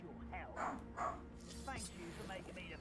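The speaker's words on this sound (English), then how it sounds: "I can hear Dolly barking like a mad dog." Dolly, a pet dog, barks somewhere off in the house, a pair of faint, distant barks followed by a few softer yips, while a person keeps talking nearby.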